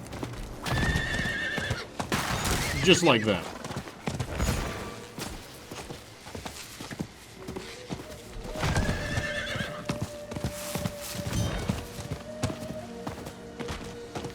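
Hooves clip-clop rapidly while a horse whinnies loudly twice in Diablo 4, amid game-like effects and a brief spoken phrase.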